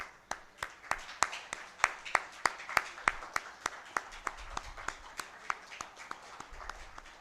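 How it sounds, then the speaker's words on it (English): Sparse, evenly spaced claps ring out one at a time in a quiet room, a slow steady rhythm of single sharp hand strikes rather than a full crowd ovation. "If you can maybe just stand up and we can all just clap for you."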